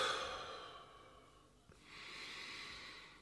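A person takes slow, deep breaths during a quiet mindfulness practice: a long, soft exhale fades out, and a second breath rises after a short pause, all faint and close.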